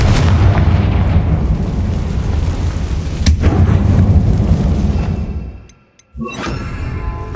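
The Confringo fire spell in Hogwarts Legacy sets off a heavy, rumbling explosion, a loud sustained roar with a sharp crack, then a fade to near silence before a quieter burst follows.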